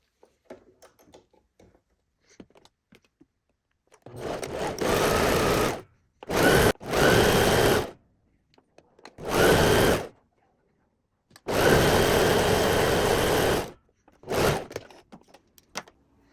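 A sewing machine with a new ball-point needle stitches the inseam and side seams of pajama pant legs in five separate whirring bursts of varying length, with quiet pauses and faint handling noises between them.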